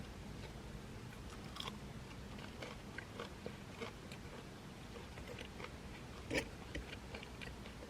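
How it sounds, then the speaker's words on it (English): Crunchy bites into a hard schnitzel crust followed by steady close chewing, quiet and regular with occasional sharper crunches, and no talking over it. "But this schnitzel, it's very hard. Let's taste it."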